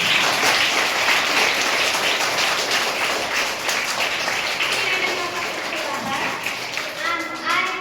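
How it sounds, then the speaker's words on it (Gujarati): An audience at a school Guru Purnima celebration for kindergarten to grade 5 pupils in Porbandar claps loudly and steadily for several seconds, mixed with children's voices and general crowd chatter. "એના માટે જોરદાર તાળીયા"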